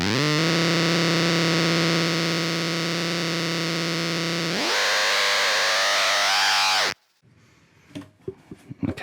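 Acoustic guitar played through a Cyclone effects pedal, a loud sustained droning tone that abruptly shifts into a brighter, warbling texture, then stops and leaves faint clicks and handling noises.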